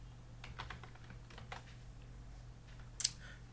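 Code is typed on a computer keyboard, a close run of quick irregular key taps with brief pauses and a sharper final click, over a faint steady hum.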